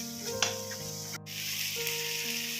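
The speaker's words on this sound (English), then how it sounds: "Now we are adding some tomato that we cut and we are gonna mix it properly." Chopped tomato frying with ginger garlic paste in a pan, a continuous near sizzle broken by a few stirring scrapes, with a steady hum underneath.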